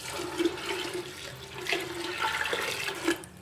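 Water poured into a pot of maash lentils for cooking, a continuous splashing gush with small bursts, steady and close, no talk.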